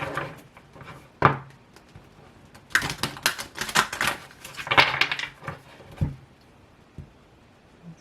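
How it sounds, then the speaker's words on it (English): A few scattered taps, then a deck of cards is riffled in a crisp, fluttering burst lasting a few seconds, followed by soft knocks. "One more shuffle."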